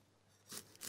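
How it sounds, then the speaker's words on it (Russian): Knife chopping an onion into fine cubes on a cutting board, a few soft, quick cuts close by after a near-silent start, with no talking. "нарезая его мелким-мелким кубиком"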